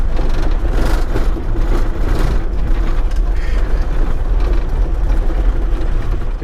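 A Land Rover 110 drives over a cobbled road, its engine droning loudly and steadily while the tyres rumble and thud unevenly across the stones throughout.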